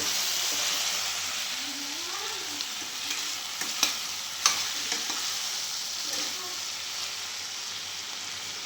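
Tomatoes sautéing in a pan for paneer butter masala, with a steady soft frying hiss and a few stirring scrapes and clicks of a spoon against the pan. The sound stays close and moderate throughout, and no one speaks.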